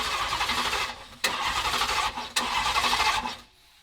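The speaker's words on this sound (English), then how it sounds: "it cranks and it cranks well" Starter cranking the engine of a custom Dodge Demon truck, a loud, steady churning whir in three bursts separated by brief pauses, close up with no talking.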